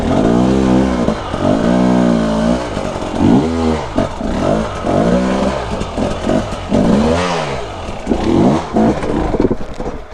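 A 2020 Husqvarna TE 300i enduro motorcycle revs loudly and close in repeated rising and falling bursts, then its engine abruptly cuts out as it stalls.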